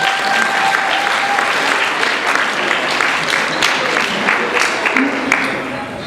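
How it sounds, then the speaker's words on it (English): A graduating audience gives a hearty round of applause at a 2013 AS awards ceremony: dense, steady clapping from many hands, loud and close, sustained without a break for the whole stretch. "Please applaud again."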